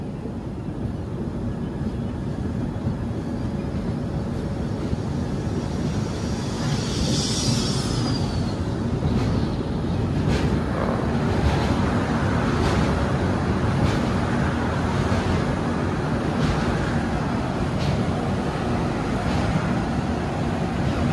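Prasanthi Express train rolling slowly across rail bridge 703 over the Sharada river, a steady dense rumble with faint rhythmic wheel clicks and a brief high screech near the middle, heard from on board.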